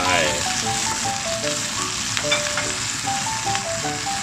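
Oyster sauce hits a sizzling wok stir-fry of garlic chives and liver, a steady loud frying hiss with a voice talking over it.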